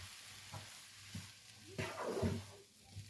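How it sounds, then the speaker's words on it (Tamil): A spoon works through a prawn and semolina mixture in a wide pan, giving soft, faint scraping and stirring strokes with a light sizzle, a few gentle passes close by. "கொஞ்சம் கொஞ்சமாக சேர்த்து தான் இப்படி கிளறி எடுக்க வேணும்"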